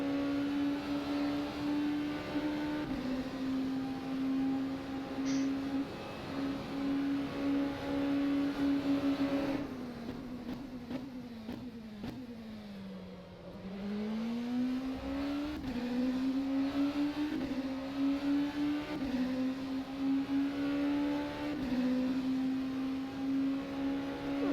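A race car engine in the rFactor 2 sim at Le Mans, holding a steady high drone that drops for a few gear shifts, dips and then climbs back up as it revs, with no voices.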